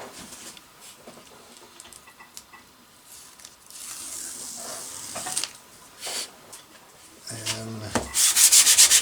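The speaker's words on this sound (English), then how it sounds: "sand over those joints also" Wooden wing sheeting joints on a scratch-built RC airplane wing are sanded in scattered short rubbing strokes, close up, with quiet gaps between bursts and a louder flurry of scraping at the end.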